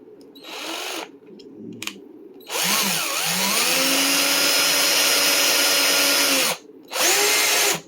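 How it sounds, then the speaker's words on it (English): A power drill bores into a Fabric Top Strat guitar headstock at a marked tuner hole, with a steady whining motor drone for about four seconds plus shorter bursts before and after, close and loud. "we have our drill bit here"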